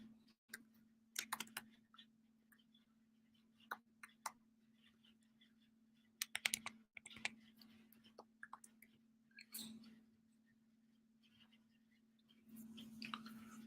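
Quiet, close keyboard typing as a message is written. Bursts of rapid key clicks are separated by pauses over a low steady hum, with no talking.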